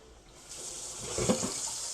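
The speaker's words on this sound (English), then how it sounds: "before I drain the pasta in my sink, I want to leave it run to cold water" Cold tap water running into a kitchen sink before draining pasta, a soft, steady rush that swells about halfway through and then holds, fairly quiet and with no voices.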